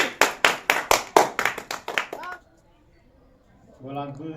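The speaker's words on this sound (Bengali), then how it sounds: "সবাই জোরে একটা হাততালি" About a dozen loud, steady handclaps from a group of children rewarding a boy at an outdoor bottle-knocking football kick game, fading out, then a voice speaks.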